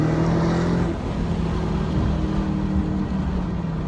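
Dodge Charger Hellcat pulling hard in second gear on a rally drive, a loud, steady engine drone heard from inside the car with a brief dip before it climbs again.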